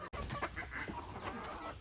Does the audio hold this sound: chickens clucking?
yes